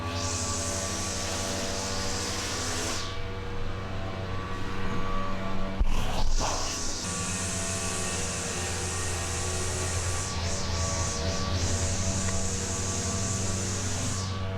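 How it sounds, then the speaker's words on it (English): A vacuum cleaner works through a heavily trashed car interior: a steady, loud whooshing drone that dips and changes pitch as the nozzle moves and its airflow shifts, with no talk. "finally done with the majority of the vacuuming"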